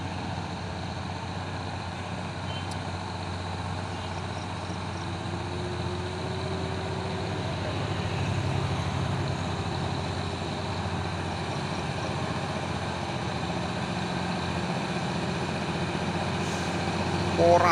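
Orange Puso 6x2 tronton trucks rumble along a road, a steady, loud low diesel drone that holds for the whole stretch with a slight swell midway as one passes close.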